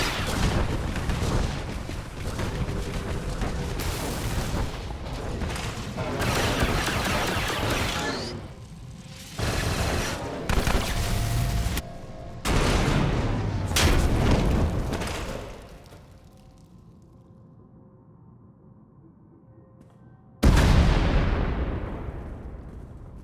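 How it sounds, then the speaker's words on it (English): Star Wars: The Old Republic video game combat fills with loud, dense explosions and bursts of blaster fire, cut by brief pauses, then a quiet rumbling stretch before a final sharp blast that decays away. "We heard explosions."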